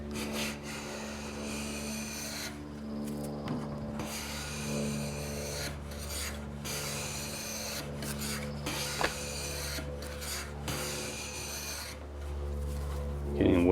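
A hand plane pulls wispy thin shavings off a figured maple board, giving a steady, close rasping hiss in repeated strokes with no talking.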